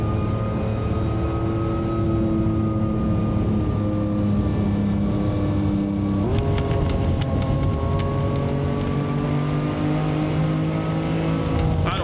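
A classic Lamborghini engine in the Assetto Corsa racing game drones steadily at moderate speed, harmonic tones sliding slowly as revs shift, with a brief jolt midway and faint rattling clicks over the hum.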